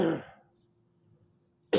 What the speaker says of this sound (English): I'm coughing my fucking guts out still.